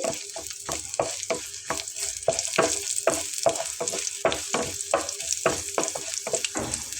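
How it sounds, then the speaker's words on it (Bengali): Chopped garlic, whole cumin seeds and a single dried chili crackle and sizzle in hot oil for a lentil tempering, with steady spitting and regular stirring scrapes, close and alone. "রসুন কুচি করে নেওয়া হাফ চা চামচ গোটা জিরা এবং একটি মাত্র শুকনো মরিচ তো এটা আমি একটু তেলে দিচ্ছি"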